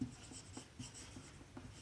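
Chalk or a marker writing on a classroom board, soft scratchy strokes tapping out in a quick uneven rhythm, faint and close, with no talk.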